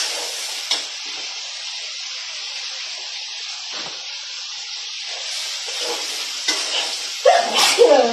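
Fish fries in a pan with spices, ginger and garlic, giving a steady bright sizzle and hiss with occasional stirring scrapes and bubbling that grow busier near the end.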